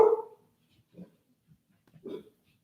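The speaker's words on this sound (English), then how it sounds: "Sorry, my dogs are barking in the background." A few dog barks sound indoors in the background: one louder bark at the start, then softer, muffled woofs spaced about a second apart in an otherwise quiet room.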